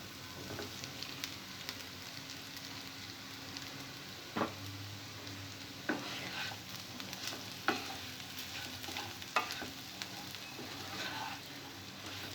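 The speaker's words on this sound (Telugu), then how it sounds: "ఈ బంగాళాదుంప ముక్కల్ని సిమ్లో బాగా క్రిస్పీగా ఫ్రై అయ్యే వరకు ఫ్రై చేసుకోవాలి." Turmeric-coated potato pieces fry in a pan over low heat with a constant soft sizzle, broken every second or two by a sharp scrape or knock as a spoon stirs them. No one talks.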